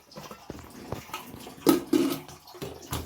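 Water poured into a cooking pot, a short gurgling splash that swells midway and comes in a couple of bursts with small clinks of the pot, close and alone.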